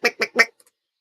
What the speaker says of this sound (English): Sound like a bird.